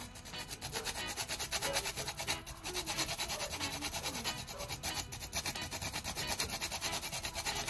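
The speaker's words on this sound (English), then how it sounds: "I'm going to grate on my nutmeg." Nutmeg being grated for a pumpkin juice drink, a steady close rasping and scraping that runs without break throughout, with no talking.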